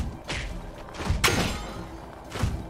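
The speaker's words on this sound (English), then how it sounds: "Let's knock this beetle onto his back." Beetle in the video game Potion Permit being knocked onto its back: a few separate heavy thuds and whooshing impacts spaced about a second apart, sharp and close over a low game-music bed.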